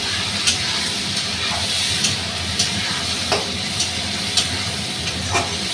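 Ground masala paste frying in a pan and stirred with a spoon, a steady sizzle broken by regular sharp scraping clicks about every half second to second.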